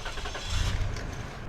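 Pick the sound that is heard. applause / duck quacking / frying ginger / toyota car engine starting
toyota car engine starting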